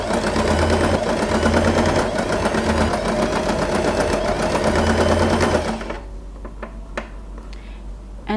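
A sewing machine stitches fabric for scrunchies in a fast, steady whir for several seconds, then stops, leaving faint handling clicks and light room noise.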